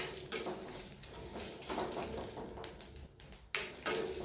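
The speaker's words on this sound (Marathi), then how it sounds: "दोन चम्मच गरम करून घ्या जिरे पण" Cumin seeds dry-roasting in a pan, with irregular spatula scrapes and clinks on the metal and soft seed rustling between them, close and fairly quiet with no talking.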